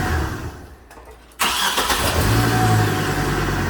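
A 2008 Chevrolet Colorado pickup with an intermittent no-crank fault cranks briefly, then its engine catches and settles into a loud, steady run close by. No one speaks.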